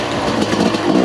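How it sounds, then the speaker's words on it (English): A 2022 TM EN300Fi fuel-injected two-stroke dirt bike lugging at low revs in second gear, giving a steady, rough, close engine drone for about a second with no voices. "Second gear, just kind of lugging it here."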